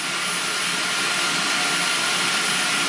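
A Xiaomi Jimmy H8 Pro cordless stick vacuum running at full power, measured from about one meter, giving a loud, steady, unbroken whooshing whine from start to finish with no voices.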